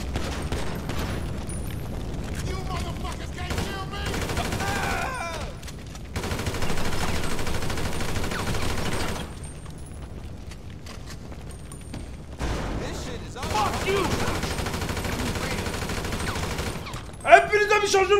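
Bursts of AK rifle fire in Grand Theft Auto V, rapid automatic volleys with pauses between, mixed with game effects and other sounds, fairly loud throughout.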